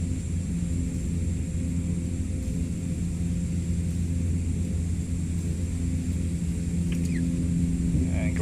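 A Canadair CL-415 water bomber flying over Southern California wildfires in Microsoft Flight Simulator 2024, its engines holding a steady, loud, droning rumble throughout, with brief faint cockpit tones near the end.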